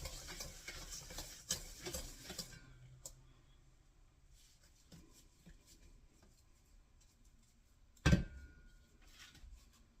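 Sugar creamed with a hand whisk in a bowl for an applesauce cake: quiet, quick scraping and ticking strokes at first, then mostly quiet with one sharp knock.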